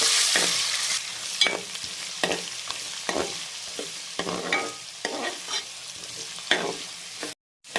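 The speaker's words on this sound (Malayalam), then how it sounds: "വെളുത്തുള്ളി ഇഞ്ചി 3/4 മൂപ്പായി." Garlic and ginger fry in oil for a Kerala lime pickle while a spoon stirs the pan. Loud, even sizzling is broken by regular scraping strokes about once a second, with a brief dropout near the end. No one speaks.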